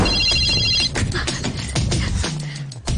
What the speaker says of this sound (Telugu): ఇప్పుడు ఎలా ఫోన్ వస్తుందో చూస్తాను.